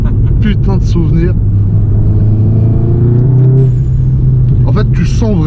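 A Volkswagen Golf GTI making 340 hp accelerates with a loud, close engine drone that rises in pitch as the turbo comes on, heard from inside the car under speech.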